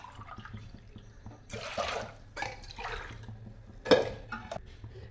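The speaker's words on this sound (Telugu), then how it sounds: "ఒక గ్లాస్ రవ్వకు 4 గ్లాసులు నీళ్ళు పోసుకోవాలి." Water is poured from a glass into a cooking pot for jowar rava kichidi, in a few short splashing gushes with quiet pauses between them.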